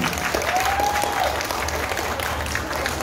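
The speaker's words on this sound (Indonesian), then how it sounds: "Tepuk tangan buat pilar" Dense applause from a crowd at a congress, continuous clapping at a steady level throughout, with a brief whistle-like tone near the start.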